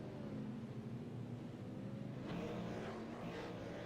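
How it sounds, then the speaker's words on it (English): V8 Supercars race cars splutter on track as they run out of fuel, a distant uneven engine drone with wavering tones and a rougher burst partway through, heard faintly amid broad background noise. "I can hear a few cars spluttering on the track."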